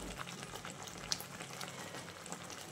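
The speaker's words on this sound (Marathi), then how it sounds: "आपला मसाला छान शिजत आहे" Masala spice mix with coriander powder and kitchen king masala cooking in a pan for paneer masala, a soft, steady sizzle and bubbling that runs evenly throughout without talk.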